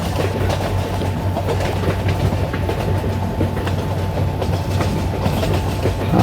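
An Indian Train Simulator game train rolls toward Anand station while slowing, with a steady, loud, close rolling rumble and rhythmic wheel clatter throughout and no talking.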